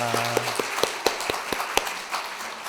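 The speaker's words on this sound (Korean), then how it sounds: "마리오 포레스티엘, 영 포레스티엘, 네, 박수로 환영하겠습니다." A church congregation claps to welcome visitors: sparse, distinct claps at an uneven rhythm after a short tone, close by and moderately loud, tapering off near the end.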